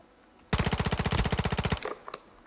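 A rapid burst of automatic gunfire in Call of Duty Warzone 2.0 rattles off about twenty evenly spaced shots over roughly a second, loud and close, followed by fainter scattered noises.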